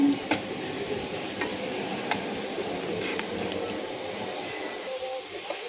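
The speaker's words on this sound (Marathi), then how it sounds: "कांदा चांगला लालसर फ्राय होऊ देऊ।" Onion frying in a pan for a Hyderabadi green chicken masala, heard as a steady close sizzle with occasional clicks of stirring, continuous throughout and with no talking.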